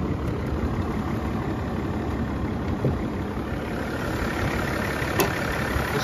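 A BMW E65 with about 300,000 km on it idling smoothly, a steady even engine hum with no other sounds over it.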